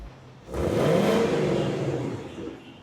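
A Ford Mustang GT engine in quiet exhaust mode revs up sharply to about 3,500 RPM, rising to a sustained muffled roar before easing off, heard from inside the car.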